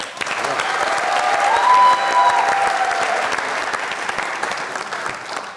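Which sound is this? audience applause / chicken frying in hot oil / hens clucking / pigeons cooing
audience applause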